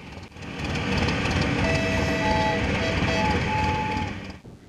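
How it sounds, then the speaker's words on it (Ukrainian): A fire train brings water to a rescue and forestry drill, its steady rumbling rolling noise loud and continuous with faint high squealing tones, no voices. "Воду підвозять пожежним потягом."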